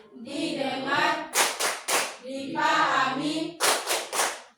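In a classroom, a group chant alternates with bursts of crisp unison hand claps, three quick claps in each burst, twice over, loud and close.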